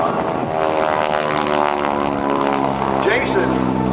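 A Viper aerobatic airplane with a Pratt & Whitney engine drones steadily and loudly at a 2014 NAS Oceana airshow, its propeller roar thick with layered harmonic tones for the full stretch.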